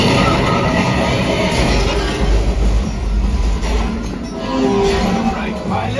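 A train on a Disneyland ride rumbles past loudly and continuously with clanking and rattling, heavy low roar throughout, while people talk over it.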